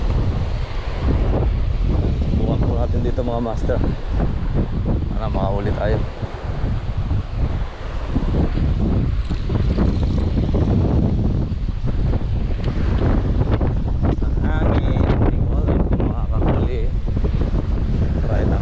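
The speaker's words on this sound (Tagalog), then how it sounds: "Lakas po hangin ngayon dito mga master." Strong wind buffets the microphone at sea during wind and rain, with surf and water noise roaring steadily throughout while someone talks over it near the mic.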